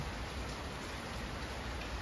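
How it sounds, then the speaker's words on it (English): Steady rain falls outdoors in a continuous, even hiss with no distinct drops standing out, a soft broadband wash that holds at the same level throughout, with no talking. "it's so cool when you see this rain falling"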